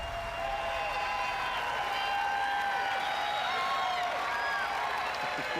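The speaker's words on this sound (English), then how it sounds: "I heard the cheer for the NPCs." A large E3 audience at the Fallout 76 presentation cheers and applauds for human NPCs, a steady, dense wash of clapping and shouts that fills the room and holds at an even level throughout.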